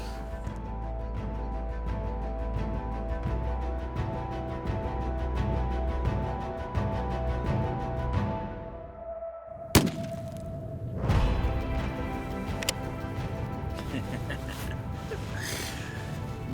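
A single loud, sharp report from a Gunwerks .375 rifle firing a large Barnes bullet at a steel target 620 yards away cuts through a steady background hum, followed by a fainter, duller thump.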